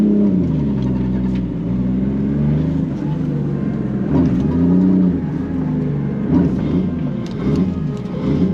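Engine of a Toyota JZX100 drift car revving and droning loudly and steadily at a drift day, with the pitch rising and falling in surges while people talk over it.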